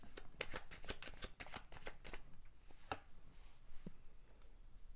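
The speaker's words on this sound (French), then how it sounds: "je vais tirer d'autres cartes pour avoir plus de détails" Tarot cards are shuffled and drawn by hand, giving a quick run of crisp riffling snaps and slaps that thins into a few sparse, separate flicks and taps, close up with no talking.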